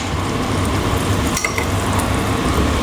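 Mushroom and potato curry sautéing in ghee in a pan, a steady dense sizzle and crackle of frying throughout, with a brief clink of a utensil partway through.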